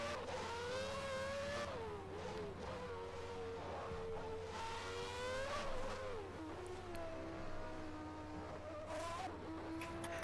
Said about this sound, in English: exactly what engine this is. This is the Ilmor LA IH10